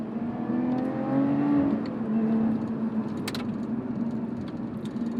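A Lotus Evora GT with a manual transmission accelerates hard, the engine note climbing and then dropping as it shifts gears, including a careful change from first to second, under a steady close-up roar.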